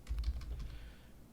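Quick, light keystrokes clatter on a computer keyboard in a short burst of typing, close and fairly soft, slowing and fading toward the end with no voices.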